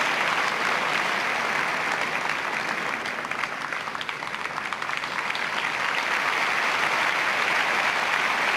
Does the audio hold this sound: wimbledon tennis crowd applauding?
yes